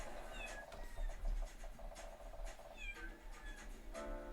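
Cartoonish cat meows repeating through a video game trailer, several short rising mews layered over bright background music, fairly loud and continuous across the clip.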